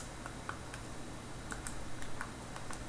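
A calculator's keys are tapped in a quick, uneven run of light clicks, faint and close against a quiet room hum.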